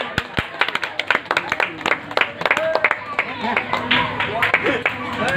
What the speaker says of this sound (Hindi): तालियों से इनका स्वागत करें।